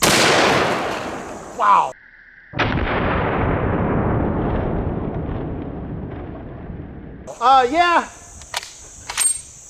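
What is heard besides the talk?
elephant rifle shots breaking a cinder block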